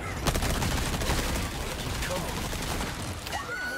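Rapid bursts of SMG fire in the Resident Evil 4 Remake video game, loud and continuous through a dense, chaotic combat mix with distant clattering and layered effects throughout.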